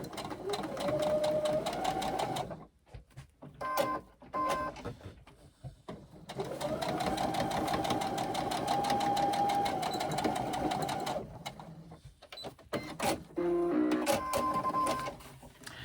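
A sewing machine runs in steady bursts, stitching the box corner of a fabric pouch, with a long continuous run, brief pauses and short stops and starts, close and clear with no talk.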